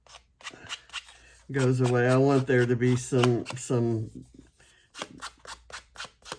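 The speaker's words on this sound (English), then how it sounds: "I started to distress them with scissors" Scissors snip and scrape along paper edges to distress them for scrapbooking, a series of short crisp cuts before and after a stretch where someone talks over them.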